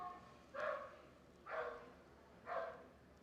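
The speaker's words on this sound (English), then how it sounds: "There's a crazy dog barking out there." A dog barking somewhere outside, three evenly spaced single barks about a second apart, distant and muffled against a quiet indoor background.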